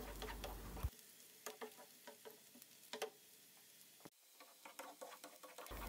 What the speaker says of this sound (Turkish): Soğanları kokusu çıkana kadar kavuralım.